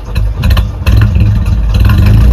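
A pre-war Humber 12/25 car engine running, heard from the rear of the car: a steady, loud low rumble with uneven clattering pulses and a slight rise in intensity partway through.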